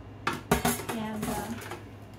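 Homemade dish drainers being handled, giving a few sharp clattering knocks and rattles followed by lighter shuffling, close and fairly loud with no talking.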